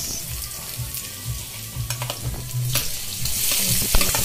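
Garlic and onion sizzle and crackle in hot oil in a pan, with steady frying and some stirring scrapes growing louder toward the end; no one talks.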